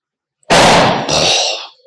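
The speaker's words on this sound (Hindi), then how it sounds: "पटाखेबाजी बहुत हो रही है, दिवाली का टाइम चल रहा है ना।" Diwali firecrackers burst outside, two loud sharp booms in quick succession, each with a crackling, hissing tail that dies away within about a second.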